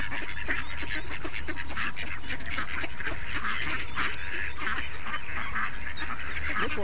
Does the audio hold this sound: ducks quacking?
yes